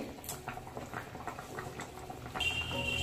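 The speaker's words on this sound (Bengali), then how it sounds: "মাছ দেওয়ার পরে ঝোলটা 2-3 মিনিট ভালো করে ফুটিয়ে নিয়েছি" A thin Bengali bata fish curry broth boils in a pot, a steady soft bubbling and pattering up close that grows a little louder and fuller toward the end.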